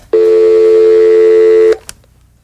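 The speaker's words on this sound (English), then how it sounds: "We have a phone call coming in." A single telephone ring tone for an incoming call, a steady electronic tone lasting about a second and a half, loud and close, with a short click after it ends and no talk.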